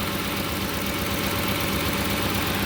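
A car engine idles steadily up close, a low continuous rumble with an even rhythmic chug and no other sounds.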